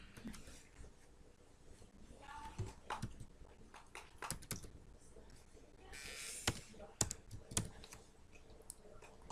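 Fast, irregular computer keyboard typing and clicking during hospital patient-data entry, a quiet, close, steady patter of keystrokes with no talking.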